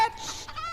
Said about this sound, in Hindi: मुर्गियों